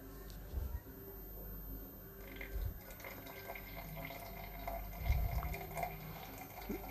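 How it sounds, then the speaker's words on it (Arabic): Hot water poured from a kettle into an Aeropress coffee maker up to the first marks, a faint steady trickle with small splashy bursts, quiet and close in a calm room. "انا جبت بقى المية السخنة اللي عندي، وهصب زي ما قلنا لحد العلامة بتاعت من 1 لـ2."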